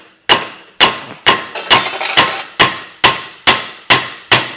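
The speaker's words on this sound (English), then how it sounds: "notice the gentle tappings" Steady, evenly spaced taps ring out one after another, about ten sharp metallic knocks on a part from a 1985 Talbot car, each close and loud with a short decay.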